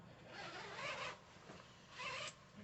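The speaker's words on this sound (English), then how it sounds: "So pretty much you unzip it here." A military patrol sleeping bag is unzipped in two quick, close zipper pulls with a short pause between them and no voices.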